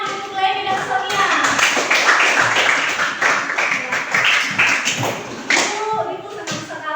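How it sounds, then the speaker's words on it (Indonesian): A classroom of students claps for two classmates, steady close applause lasting several seconds with a teacher's voice heard over it. "tepuk tangan untuk Leni dan Sonia"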